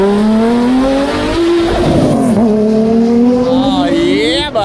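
A NASCAR stock car roars past through the pit lane well above pit speed, its engine note loud and close, rising and dipping as it shifts and accelerates away, with faint crowd and voice sounds beneath.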